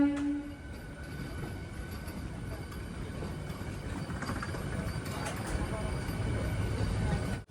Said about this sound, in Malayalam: ചെന്നൈ AC ലോക്കലാണ് ഈ കാണുന്നത്.